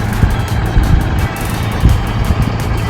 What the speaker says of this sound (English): And there's the tow truck.